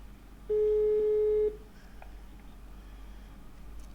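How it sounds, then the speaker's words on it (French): Telephone ringback on a call, a single steady electronic tone lasting about a second before quiet line hiss. "Ça sonne encore le nouveau numéro."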